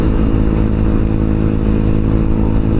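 A Honda Ruckus scooter engine drones steadily while being ridden, a close, continuous buzzing hum with constant loudness and no talk.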